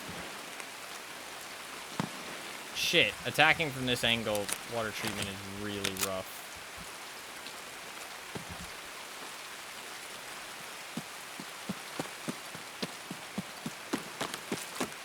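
Heavy rain in a video game pours as a continuous loud hiss, with someone talking over it for a few seconds early and then sharp footstep-like taps toward the end.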